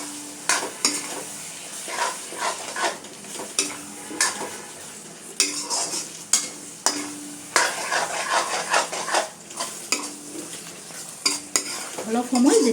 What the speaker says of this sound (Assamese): এইখিনি খুব ধুনীয়াকৈ মছলাটো মিক্স হৈ যাব আৰু ফ্ৰাই হৈ যাব লগতে